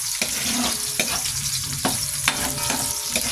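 Garlic and ginger sautéing in a pan, a steady close sizzle broken by repeated scraping stirs of a utensil, with no talking.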